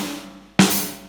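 A single crisp drum hit with a bright cymbal wash, hi-hat and snare struck slightly apart as a flam rather than landing as one clean attack, ringing out afterward.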